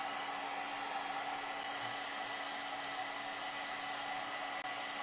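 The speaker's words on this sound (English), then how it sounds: "I would plug another heat gun in, but I am sure we would blow a circuit" A heat gun blows a steady, loud, unbroken whoosh while drying liquid patina on a decoupage fabric tote bag, constant throughout with no talk.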